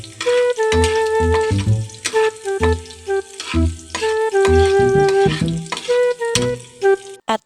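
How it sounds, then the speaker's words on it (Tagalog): Garlic and onion sizzle and crackle in hot oil as they are stirred in a pan while cooking Filipino adobong sitaw, with loud close bursts of frying and clattering utensil strokes in an uneven rhythm. "uminit na rin tong mantika at ilagay na natin ang bawang at sibuyas"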